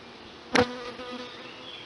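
Honey bees hum around an open hive, a soft steady buzz with a sudden short, louder burst as one passes close, then the faint drone continues.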